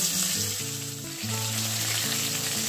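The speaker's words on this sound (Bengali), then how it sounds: "তেলটা আমার ভালোভাবে গরম হয়ে গেছে। আমি এবার দিয়ে দেব মাছ।" Tilapia fish pieces fry in well-heated oil, a constant bright sizzle over which a steady tonal melody of background music plays, with no talk.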